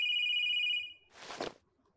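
A steady electronic telephone ring from the Space-Eating Croc PC game, one sustained tone lasting about a second, then a brief breathy burst and near silence.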